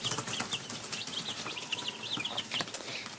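Chickens in a coop, about thirty birds, flap their wings and cluck in a busy, close scramble, with bursts of wing beats and repeated high clucks throughout.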